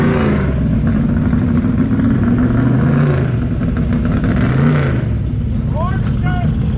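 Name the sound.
race car engine revving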